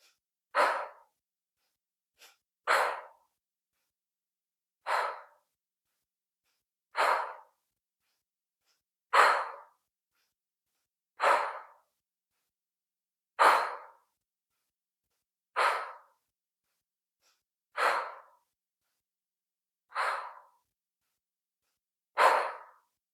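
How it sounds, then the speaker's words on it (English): Deep, forceful exhales during a quickening yoga breathwork session repeat about every two seconds, each a loud breathy rush with silence between and no talking. "Breathing even more now as you inhale, taking as much air as you can in"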